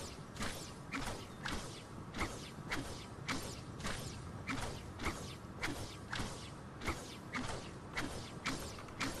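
Repeated swings of the Breezy Bashers pickaxe in Fortnite cutting through empty air, a rhythmic series of soft creaking whooshes roughly every half second, quiet and unbroken by talk.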